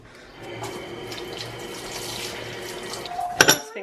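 Running tap water pours steadily into a kitchen sink during rinsing, a close, even rushing stream that ends with a few brief clinks and splashes.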